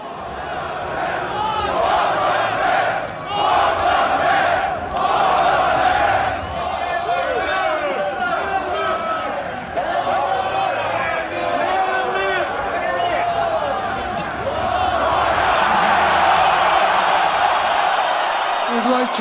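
Large concert crowd at a show cheering, shouting and whooping loudly and continuously, with a swell of roaring near the end and a voice speaking over the noise.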